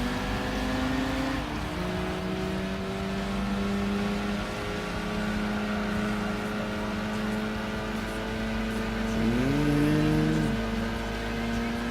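An Isuzu 117 Coupe races in Gran Turismo 4, its engine droning steadily and close, rising in pitch under acceleration with a couple of brief shifts where the revs dip and climb again.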